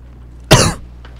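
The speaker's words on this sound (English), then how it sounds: "Did you just cough in my ear?" A single sharp, loud cough lands close by during a Sea of Thieves game session, followed by a faint, short trailing sound and quiet background hum.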